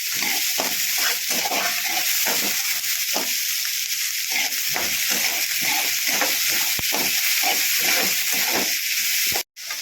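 Mixed vegetables and peas sauté in a pan for a quick vermicelli breakfast, giving a loud steady hiss and sizzle broken by repeated scraping stirs of the spatula, with no talk.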